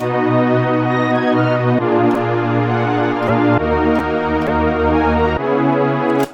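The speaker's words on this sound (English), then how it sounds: "it's basically a multi-effects processor with noise" A steady electronic K-pop-style beat processed through a vintage multi-effects plugin, with dense, layered harmonic tones and periodic sharp hits, sounding thick and processed, playing continuously without any voices.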